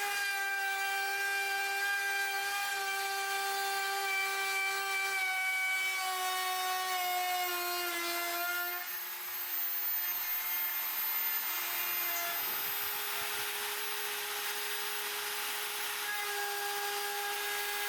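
A mostly 3D-printed MPCNC router mills aluminum, its spindle whining in a steady high-pitched tone with layered harmonics that shift in pitch partway through, grinding on continuously under a harsh cutting hiss with no voices.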